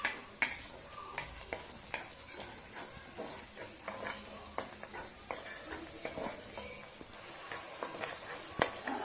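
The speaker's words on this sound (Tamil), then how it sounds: "இந்த எண்ணெயில் வணக்கிக்கலாம். இப்போ நல்ல வெங்காயம் கொஞ்சம் சேர்க்குற மாதிரி வணக்கலாம்" Onions and cardamom pods frying in hot oil for a mutton kolambu, a soft continuous sizzle broken by scattered clicks and scrapes of stirring in the pan, moderately close and fairly quiet with no talking.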